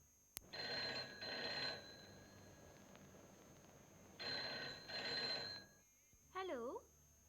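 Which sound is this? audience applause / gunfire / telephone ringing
telephone ringing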